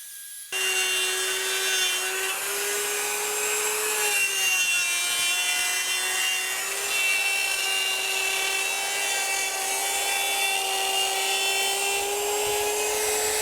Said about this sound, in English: if you are going to use a router to cut all the way through, make sure you put a waste board underneath of it